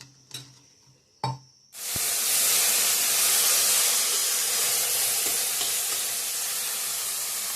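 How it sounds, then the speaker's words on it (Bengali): Okra (bhindi) frying in a home kitchen pan: a few soft knocks, then a loud, steady broadband sizzle sets in and holds close up without letup, with no talk over it. "এদিকে ভেন্ডি ভাজাটা বসায় দিয়ে দিছি, হচ্ছে"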